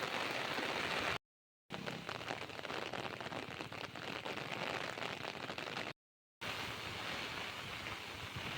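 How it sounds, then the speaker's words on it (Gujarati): Heavy rain pours down in a dense, steady hiss of drops hitting surfaces, constant and enveloping, broken by two brief silent gaps. "ઓહો વરસાદ વરસાદ"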